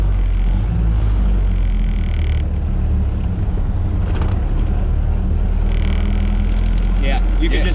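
A Ford Model A garage find pulls away in second gear, with a loud, low, lugging engine rumble and road noise that fill the whole stretch. The drone is steady and close, and people talk over it.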